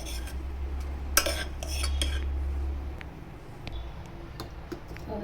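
Metal utensils clink and scrape against a pressure cooker while pulao rice is handled, a few sharp clatters over a low steady hum, with no talking.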